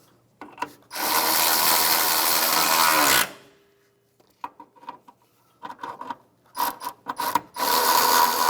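A ratchet wrench working 10mm bolts on a Hyundai Elantra radiator filler neck assembly, with a long steady burst of rapid ratcheting, a pause with small clicks and taps, then further short and sustained bursts close up.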